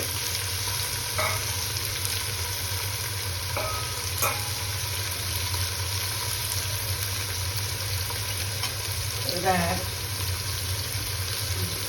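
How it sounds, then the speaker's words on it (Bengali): Previously fried prawns being stirred into a vegetable curry with drumsticks in a pan, a low steady sizzle with occasional scraping stir strokes, fairly faint and without talk. "আগে ভেজে রাখা চিংড়ি মাছগুলো এর মধ্যে দিয়ে দিলাম নাড়াচাড়া করে"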